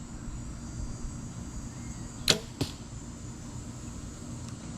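An arrow leaves a Diamond compound bow with a sharp snap, followed a moment later by a second crisp crack, both brief and set against a quiet outdoor background.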